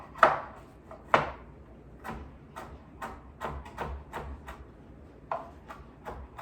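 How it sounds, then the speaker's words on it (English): A large chef knife chopping through bacon slices on a cutting board, giving sharp distinct thuds that come irregularly, first a couple of strong chops and then a run of lighter taps, close and alone. "I can use my other hand to easily chop through all of this bacon."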